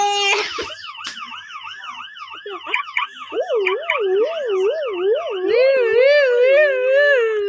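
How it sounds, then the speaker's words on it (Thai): A wailing ambulance siren sweeps up and down close by, loud and continuous, with a second siren tone joining and a brief bang near the start. "มันมารถพยาบาลจริง ตอนนี้"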